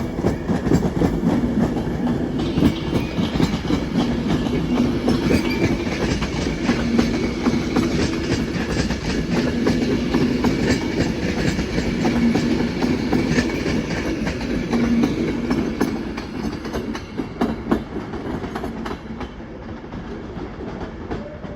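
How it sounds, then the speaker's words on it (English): A train pulls out of Crewe station on the West Coast Main Line, bound for Blackpool North and London Euston. Its engine rumble and clattering wheels hold loud and steady, then ease slightly as it draws away. "There she goes to Blackpool North and London Euston. Departing now is the slightly delayed 1408."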